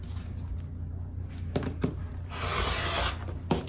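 Scissors or a rotary cutter slicing through printed cotton fabric at a measured mark for a pillowcase, a short close rasping cut in the middle, with a few sharp ticks and handling sounds around it.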